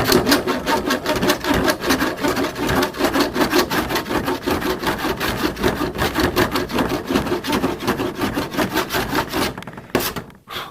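A galvanised body panel on a Jaguar Mk2 is rubbed down by hand in rapid, rhythmic abrasive strokes, steady and close for about ten seconds before stopping briefly near the end.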